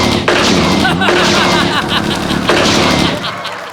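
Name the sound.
gunshots fired as a salute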